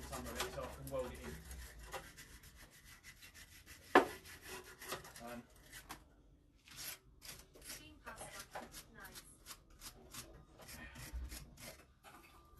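Sheet metal is trimmed by hand to fit a rusted patch area on a camper van, with rough scraping and rasping strokes that come in irregular bursts, plus one sharp clank, nearby and fairly quiet.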